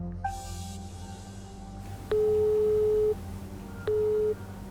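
Two long electronic ringing tones sound over a phone line, the first lasting about a second, the second shorter, with quiet hiss between them.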